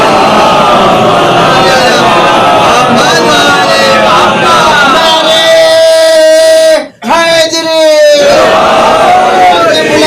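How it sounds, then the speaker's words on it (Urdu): A mosque congregation at a Shia majlis recites salawat together, a loud, dense wall of many voices in unison that briefly drops out near the end before surging back. "ایک سلوات پڑھیے سب مل کر"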